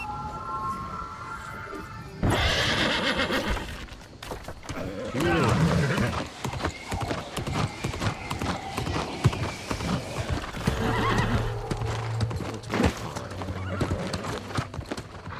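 Galloping hoofbeats clip-clop steadily while a horse neighs in the video game New World: Aeternum, with a voice talking over the busy game sounds throughout.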